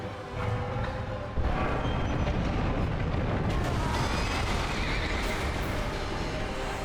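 A horse in the video game Dark Souls 2 whinnies loudly over a dense, rumbling wash of game noise, with hoof-like clatter and booming effects continuing throughout.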